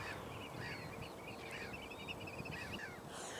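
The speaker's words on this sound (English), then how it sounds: "It's just so magical listening to these bird sounds and sounds of the morning." Birds call and chirp in a steady outdoor morning scene at an abandoned fort near a lighthouse, a mix of short repeated calls over a constant low background rumble.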